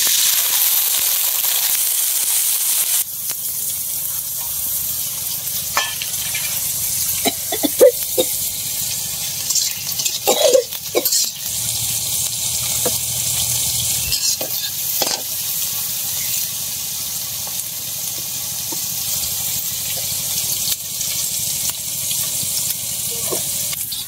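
Chopped onion, garlic and green chilli hitting hot oil for hidol bharta, a loud continuous hissing sizzle with scattered clinks and scrapes of stirring partway through.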